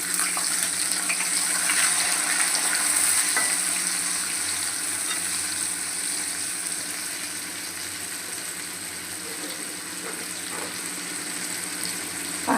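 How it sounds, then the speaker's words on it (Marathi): Onions frying in a pan of hot oil with curry leaf tempering while a home-style vegetable sabji is cooked, a steady close sizzle that holds without pause and softens slightly as it goes on. "आता आपण कांदा मस्त लाल असा करून घेऊ."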